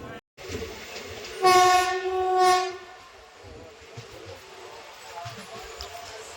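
The Venkatadri Express blares its horn twice in long harmonic blasts over the steady rumble of the train arriving at Shadnagar station, then the rumble continues more quietly.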